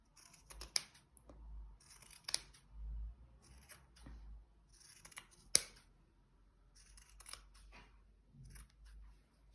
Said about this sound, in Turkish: Fazlalıklarını keseceğim.